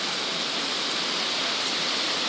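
Typhoon rain blows against a house in a steady, loud, hissing wash of water with no pauses and no talk.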